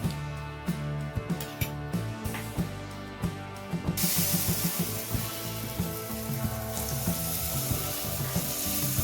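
Oil sizzling in a gunta ponganalu pan on a lit stove, a bright steady hiss that starts suddenly and continues under a background of soft rhythmic music.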